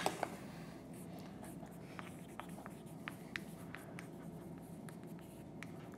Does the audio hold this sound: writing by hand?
yes